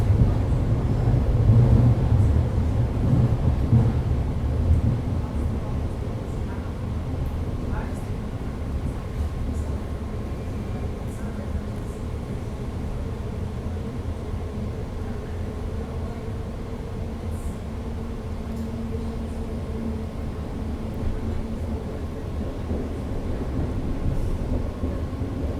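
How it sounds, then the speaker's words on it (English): A BART train moves along the track, giving a continuous low rumble with steady droning tones that lasts throughout. "So you can feel the train is moving a little bit."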